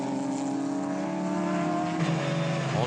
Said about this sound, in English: to get down the inside there of Greg Crick, trying to take the advantage that the Porsche has under brakes down into turn 4